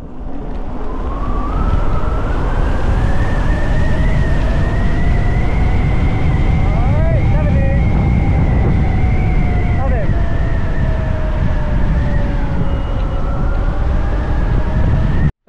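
The 8000-watt Spark Javelin electric motorbike accelerating on a closed road, giving a loud, steady motor whine that rises in pitch and holds, layered over heavy wind and road roar for the whole stretch.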